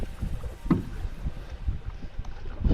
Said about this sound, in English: Here we are, paddling past the original starting line again.